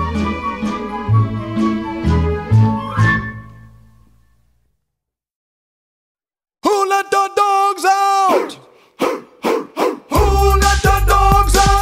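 Dog barks sound within a novelty song, with a burst of sung notes, a near-silent pause, then several sharp, loud barks in quick succession.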